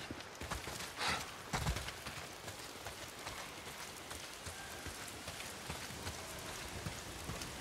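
Steady rain pours through a forest in the video game Days Gone, a dense continuous hiss of drops on leaves and ground, with a couple of louder thumps early on and no talk.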